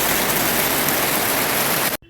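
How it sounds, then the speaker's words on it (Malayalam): Heavy monsoon rain roars as a dense, even wash of noise that fills the whole clip, then cuts off abruptly near the end. "നല്ല മഴയാണ്, മിറ്റത്തിറങ്ങാൻ പറ്റാത്ത മഴയാണ്."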